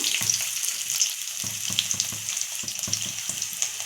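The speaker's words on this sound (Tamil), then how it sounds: "நம்ம இந்த வெள்ளைப்பூட போட்டுக்குவோம்" Sliced garlic and urad dal frying in hot oil, a bright crackling sizzle that runs throughout with quick rhythmic stirring scrapes at the pan.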